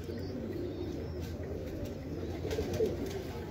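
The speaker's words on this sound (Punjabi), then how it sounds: "ਇਹ ਤਸਵੀਰ ਵਾਲੇ ਕਬੂਤਰ ਨੇ" Tasveer-breed pigeons coo softly in a loft, low repeated murmuring calls under faint background noise with a few brief chirps.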